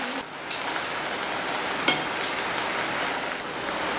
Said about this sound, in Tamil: எண்ணெய் காஞ்சதுமே பொரிச்சு எடுத்துக்கலாம்.